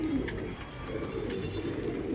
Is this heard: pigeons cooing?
yes